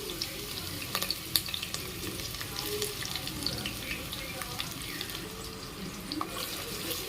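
Bay leaf, spices, onion and curry leaves frying in oil for a coconut milk veg biryani, a soft, continuous sizzle with scattered crackles and a few light clinks, fairly quiet.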